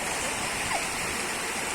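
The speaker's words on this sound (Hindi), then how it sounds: "दिखा रहा झरना, देखिए न्यू झरना" A waterfall during rainfall beside a poorly built road, heard as a close, loud, continuous rushing roar of falling water without a pause.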